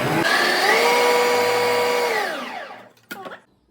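A kitchen mixer grinder with a chopper jar runs loud and steady, grinding vegetables, with a rising then falling whine as the motor spins down, followed by a short knock or rattle of the jar.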